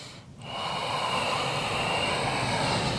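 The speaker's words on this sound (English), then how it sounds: "Long deep inhales, exhales through your nose, gently restricting the airflow at the back of your throat." Long, deep Ujjayi breaths drawn through the nose with the throat gently restricted, a loud close rushing breath sound that builds after a brief pause and continues steadily.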